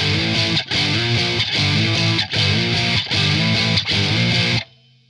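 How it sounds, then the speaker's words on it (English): Electric guitar through a Boss DS-2 Turbo Distortion pedal plays a regular rock tone: loud, thick distorted chords in a steady repeated riff with brief gaps, then it cuts off into a short fading tail. "Now here's a kind of regular rock sound."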